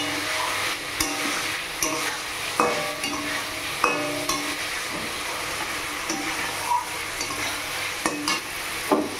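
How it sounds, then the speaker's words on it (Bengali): Fried potatoes are stirred into a fish curry masala in a hot pan, with repeated sharp spatula scrapes and knocks every second or so over a constant close sizzle. "আলু ভাজাটা দিয়ে একটু কষাবো ভালো করে"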